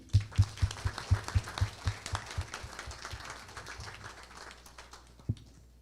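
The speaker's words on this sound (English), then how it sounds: "a warm round of applause for Carmen Lourdes Pinky Valdez, PhD" Conference attendees applaud to welcome a speaker at a gathering on Mary. A few loud, spaced thumps lead into fainter, scattered clapping that thins out toward the end, with one last sharp hit.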